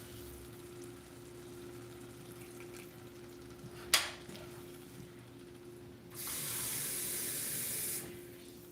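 Water runs from a tap to rinse out an opened, sliced can. A quiet stretch with a single sharp knock comes first, then a steady stream of about two seconds that stops cleanly.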